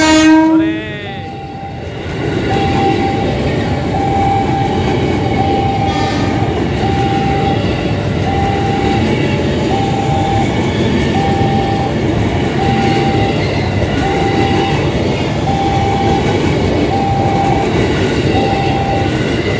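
A coal freight train rumbles steadily past at close range, its loud wheel noise carrying on throughout, with a drawn-out horn blast near the start and a repeating rhythmic tone over the passing wagons.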